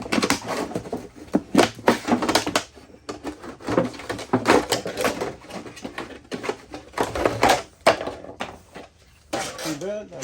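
A Civivi Altus knife saws and slices through a plastic water or milk jug, making a busy run of crackling, scraping and crunching plastic noises up close that pause briefly midway.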